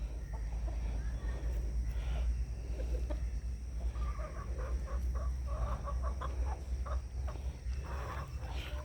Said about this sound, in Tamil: இது வந்து கட்டமூக்கு கோழி